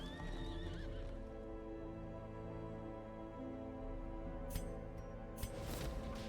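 A horse neighs and whinnies in the dark fantasy game Darkest Dungeon, a loud high whinny at the start followed by snorting and hoof clip-clop over a steady low droning background, with sharp bursts near the end.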